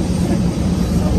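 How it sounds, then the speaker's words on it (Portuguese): ATR-72-600 turboprop airliner engine on a TAP Air Portugal flight from Lisbon to Seville, a loud, steady low droning roar with a hum of tones, continuous and close. "Apesar de um ATR-72 não ser um avião a jato e sim um turbo-hélice"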